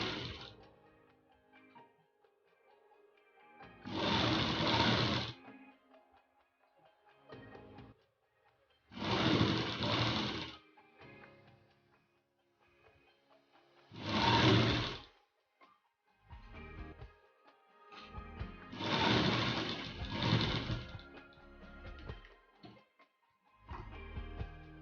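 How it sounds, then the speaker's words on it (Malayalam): Sewing machine stitching the back side of a churidhar-model nighty, running in four or five distinct bursts of rapid mechanical whirring separated by quiet pauses and light handling noises, close up with no talking. "വേസ്റ്റ് എല്ലാം ഉള്ളിലേക്ക് ആക്കി നമ്മൾ ബാക്ക് സൈഡ് കംപ്ലീറ്റ് സ്റ്റിച്ച് ചെയ്തെടുക്കുകയാണ്"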